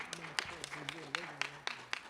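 Scattered applause at a symposium and press event, with distinct sharp claps spaced irregularly over a murmur while a voice talks underneath throughout.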